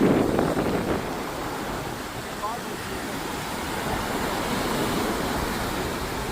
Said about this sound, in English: Look at that pretty blue turquoise looking water right here.